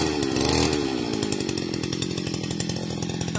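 A gas grass trimmer runs loud and close as it mows grass outdoors, its engine a continuous buzzing whine that briefly rises near the start.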